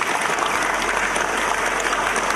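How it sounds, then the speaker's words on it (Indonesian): An audience at an Islamic motivational talk in Indonesia claps loudly and continuously, a dense, steady wash of applause heard close with no voices over it. "Tepuk tangan."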